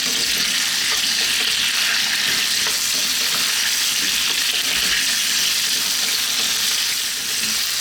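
Raw potatoes fry in a pan over medium heat with a continuous bright sizzle and faint stirring scrapes, loud and close, with no talking.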